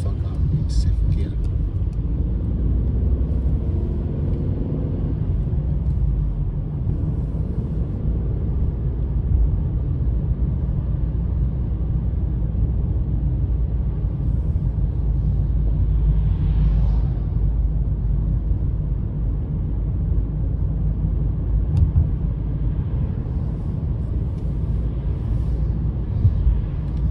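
A car pulling away and shifting into second gear on a driving test route, heard as a steady low engine and road rumble from inside the cabin under ongoing talk.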